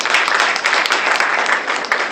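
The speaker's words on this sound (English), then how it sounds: "So we really need to clap for management sciences." Audience at an academic symposium clapping together, a close, loud, dense round of applause with individual hand claps audible, lasting about two seconds and no talking.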